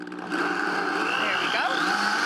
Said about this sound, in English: I think it gets smoother in the blender, though. And zap that into a puree.